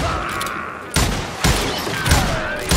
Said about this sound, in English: this is indeed a very fast gun